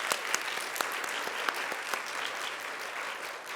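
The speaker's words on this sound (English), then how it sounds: "Can we give her applause?" An audience claps steadily for a newly ranked Eagle Scout at a commission meeting. The applause is dense and even, with a few sharper individual claps standing out, and it carries on for the whole stretch.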